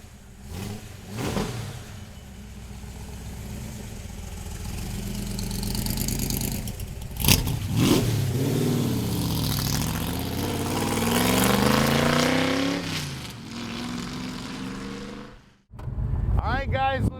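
A 1965 Shelby Cobra's engine rumbles close by, then revs in rising and falling sweeps as the car pulls away. It cuts out briefly near the end before growling back in.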